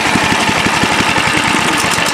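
A go-kart engine idles loud and close, a steady rough mechanical chugging with a rapid pulsing rhythm and no voices over it.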